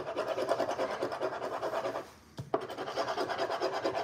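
Steady, rhythmic rasping as a coin scrapes across a lottery scratch-off ticket close up, in quick repeated strokes that pause briefly partway through, followed by a tap before the scratching resumes.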